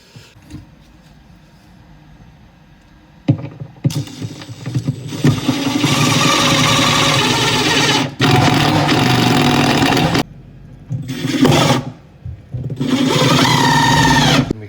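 Pilot holes being drilled and screws driven into riser molding for a three-tier crown molding install, heard as a power drill's whirring motor in several bursts of varying length, fairly close and loud, with short pauses between runs.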